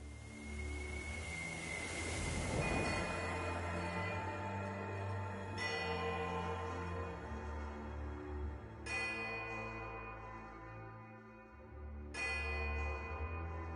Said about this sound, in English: The ring of a bell comes to you on a cold wind.